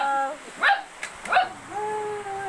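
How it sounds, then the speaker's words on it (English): A dog on a farm gives two short, high yipping barks about a second apart, close by, with a faint voice heard briefly before and after. "Look at this doggy doggy."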